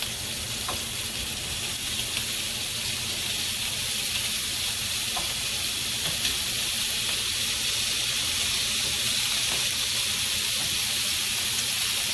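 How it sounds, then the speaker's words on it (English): Sausage browning in olive oil in a pan, a loud, constant sizzle and spitting hiss that holds steady throughout with occasional small pops. "What I'm going to do is brown the sausage on both sides."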